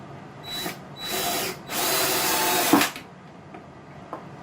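Power drill driving screws into a ham radio desk, several close whirring bursts, the longest ending in a sharp stop, followed by faint quiet handling.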